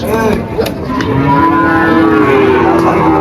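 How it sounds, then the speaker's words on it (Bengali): Cattle mooing at a busy cattle market, with long, loud, close lowing calls over a background of crowd noise and faint voices. "ওইখানে যাব সরাসরি গাছের নিচের গরুগুলো দেখাবো"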